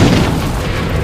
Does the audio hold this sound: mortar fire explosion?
yes